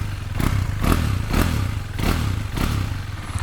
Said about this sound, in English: if you rev it, this is literally the same I've done on my Duke